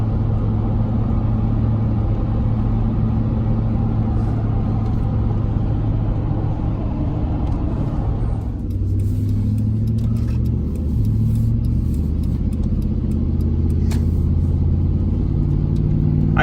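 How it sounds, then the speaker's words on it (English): A high-mileage Chevrolet K1500 pickup truck drives along with a steady low engine rumble and road drone, heard from inside, the tone shifting partway through as it changes speed. "for as many miles as this truck has, how well this thing runs"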